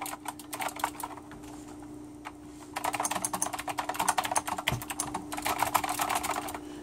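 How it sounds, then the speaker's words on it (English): Someone types on an Azio MK Retro mechanical keyboard, producing sharp, clicky keystrokes close by, first in short bursts and then in a denser, faster run. "It's clicky. It's definitely a clicky board."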